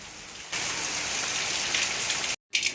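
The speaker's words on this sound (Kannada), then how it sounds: "ನೋಡಿ ಗೈಸ್, ಇದ್ಕಿದ್ದಾಗೆ ಎಷ್ಟು ಜೋರಾಗಿ ಮಳೆ ಬರ್ತಾ ಇದೆ" A sudden heavy downpour of rain at home that starts abruptly and roars steadily and loudly, broken by a short silent gap near the end.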